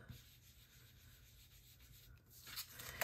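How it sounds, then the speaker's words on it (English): Ink rubbed along the edge of cardstock, a soft, faint continuous scuffing that grows into a few slightly louder brushing strokes near the end, close up with no speech. "I'm just going to rub along the edge a little bit"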